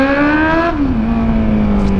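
Honda Hornet motorcycle with a straight-through pipe revving up close, a loud droning engine tone that rises, then dips and settles into a steady high idle.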